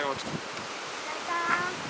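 Strong wind at the Polish seaside buffets the microphone in a steady rushing roar, with faint voices and a brief tonal sound near the end under the noise.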